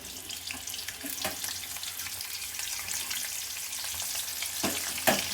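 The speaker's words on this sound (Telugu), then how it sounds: "సో ఇప్పుడు ఆయిల్ హీట్ అయిందండి. ఈ వంకాయలు ఇప్పుడు వేసుకుందాం." Eggplant bajji dropped into hot oil, giving a steady bubbling fry with faint splashy bursts near the end, close and continuous with no talking.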